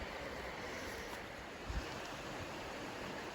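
The Red Moshannon River flows beside a woodland hiking trail on the Allegheny Front, a steady broadband wash of moving water heard alone with soft wind and no voices.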